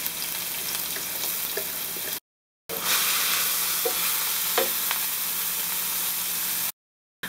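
Chopped onion and garlic fry in grapeseed oil, giving a continuous loud sizzle with light crackles and occasional stirring taps. The sound drops out briefly twice, and nobody speaks.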